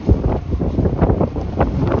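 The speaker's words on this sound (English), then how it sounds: "It's a little bit windy today" Gusty wind buffets the microphone outdoors on a sunny spring day in Midtown Toronto, a steady low rumble with uneven swells and no voices.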